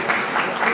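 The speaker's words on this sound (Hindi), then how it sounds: "इनका तालियों की गिड़गिड़ाहट से जोरदार स्वागत" Brief burst of audience applause welcoming an honoree at a community talent-felicitation ceremony, a thick wash of many hands clapping, loud and close, over a short moment.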